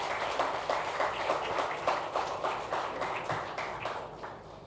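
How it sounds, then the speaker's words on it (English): An audience at an education conclave applauds Union Education Minister Dharmendra Pradhan, a steady wash of many hands clapping at moderate distance, fading slightly toward the end. "let's give Mr. Pradhan a very warm round of applause for coming here"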